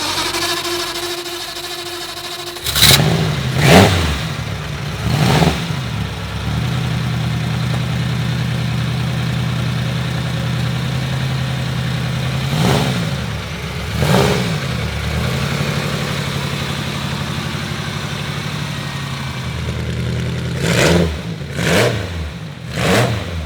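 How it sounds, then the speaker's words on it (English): An Alfa Romeo 8C Monza's inline-eight on a straight-pipe exhaust starts up, then revs in sharp repeated blips over a loud, throaty idle, close by and unaccompanied by speech. "An inline 8 with a straight pipe."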